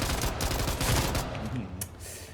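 Rapid automatic gunfire from the shooter video game Ashfall, a loud, continuous stream of shots filling the whole moment with a few sharper cracks near the end, no voices over it.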